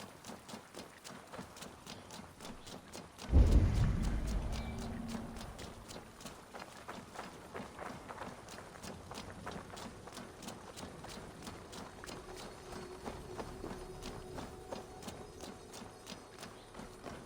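Rhythmic hoofbeats of a horse running in Assassin's Creed Valhalla continue steadily throughout, with a sudden heavy thump near the start, moderately loud and close.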